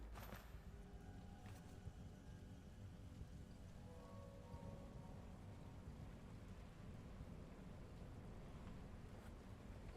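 Rain falling steadily in the video game Weird West, a faint, even hiss of drops with a few soft low rumbles beneath, and no talking.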